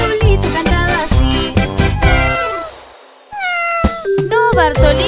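A loud cat meow rises and falls amid bright children's music with bouncy percussion, followed by another drawn-out meow after a short break.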